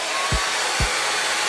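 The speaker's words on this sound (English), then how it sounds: "Use my blow dryer on a cool setting and just make sure everything is dry." A blow dryer on a cool setting runs steadily and loudly throughout while finishing a lace wig install, its broadband whoosh broken by two brief low thumps.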